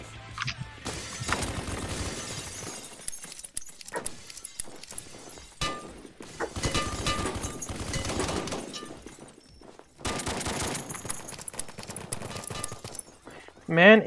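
Shotgun fire rings out in the video game Black Hawk Rescue Mission as bursts of loud, rapid cracking shots, in several clusters separated by short pauses, with people talking in between.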